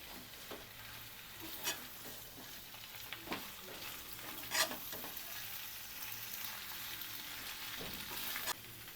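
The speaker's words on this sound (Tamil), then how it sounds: "வெங்காயம், கேப்சிகம் எல்லாம் ஒன்றா சேர்த்து சிக்கனில் போட்டு மசாலா பிடிக்கிறதுக்கு நல்லா கிளறி விட்டுடலாம்" Chicken masala with fried onion and capsicum being stirred in a pan, a steady sizzle of frying broken by sharp, irregular scrapes and clacks of the spoon against the pan, close and fairly loud, with no talk.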